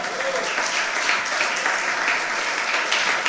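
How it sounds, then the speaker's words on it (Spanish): A church congregation gives dense, steady applause, a continuous wash of clapping with cheering voices mixed in, holding at an even loudness throughout. "¿Cuánto damos un aplauso al Señor en esta hora?"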